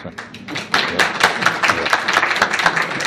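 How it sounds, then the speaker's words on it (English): Audience clapping at a conference on Latino political engagement, a brisk, fairly loud patter of individual hand claps building after a brief lead-in and continuing steadily, with little talk over it. "yes, it does require an applause"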